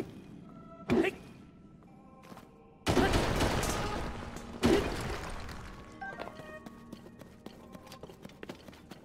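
In Zelda: Tears of the Kingdom, a weapon bangs through rock, with several loud crashing impacts and bursts of crumbling debris, followed by scattered smaller clatters and ticks fading out.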